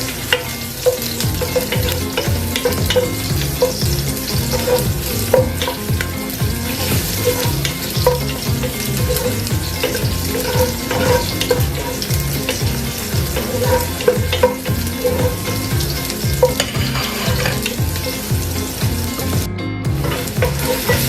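Garlic fries in a pan alongside ginger for pork adobo, a loud, steady sizzle with constant crackling and repeated stirring scrapes throughout, no talking over it.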